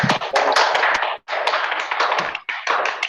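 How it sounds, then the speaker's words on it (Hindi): Audience at a training event gives loud, close, rapid applause to welcome a speaker, in three bursts separated by brief near-silent gaps. "तालियों के साथ में वेलकम करते हैं"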